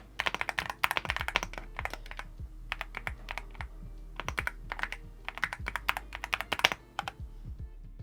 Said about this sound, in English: thanks to those pre-lubed linear milky switches, the sound is absolutely incredible